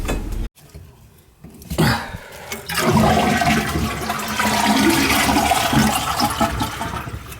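A toilet suspected of leaking at the wax ring is flushed, a loud gurgling rush of water swelling after a short pause and churning steadily to the end, with brief clatter and a cough near the start.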